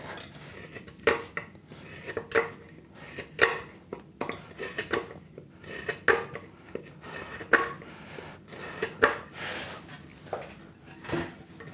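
A chisel pares a wooden seat tenon flush on a perch stool. Its short, crisp scraping strokes come close by and fall in a loose, irregular rhythm.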